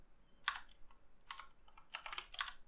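A short command is typed on a computer keyboard into a PowerShell window, giving a few close, quiet clusters of key clicks separated by short gaps.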